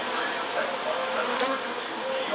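Honeybees from a hive being moved hum in a steady, dense buzz close by, with no clear breaks through the short stretch.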